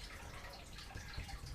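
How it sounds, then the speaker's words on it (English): Running water in a 250-liter planted aquarium, with evaporation letting the flow splash loudly, makes a faint continuous trickling and dripping in the background with no talk. "The noise in the background is my 250 liters planted tank."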